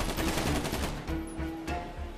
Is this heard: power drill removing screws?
no